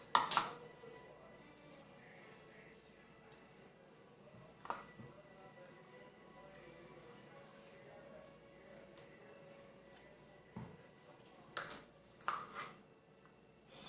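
A big spoon scooping creamy peanut butter into a measuring cup, giving soft scrapes and a few sharp clinks of metal against the cup amid quiet kitchen background.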